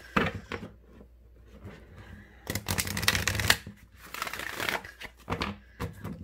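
Tarot cards being shuffled by hand, crisp riffling bursts and soft slaps that come and go in close, fairly quiet passages.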